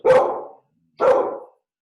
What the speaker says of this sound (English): We are going to put my dog in doggy school for barking.